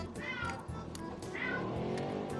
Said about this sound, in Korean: 어 방 안에 고양이가 있는 건 알겠다 깨달았다.